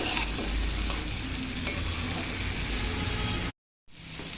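Spring onion curry frying in a pan while being stirred, a steady sizzling hiss with occasional utensil scrapes, then a brief cut to silence before the sizzle resumes.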